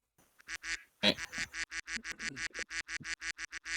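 Duck-quack buzzer effect used in a game-show round, a rapid string of loud, evenly spaced nasal quacks with a short gap and a brief voice near the start before the quacks resume.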